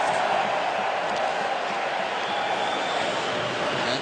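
Hockey arena crowd at a Chicago Blackhawks versus Edmonton Oilers NHL game, a dense continuous roar of many voices at a steady loud level throughout, heard from within the stands.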